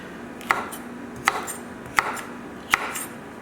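Knife chopping on a cutting board while making spice-rubbed chicken with sweet potato, bell pepper and feta: four sharp, evenly spaced chops, close and clear, with no talk.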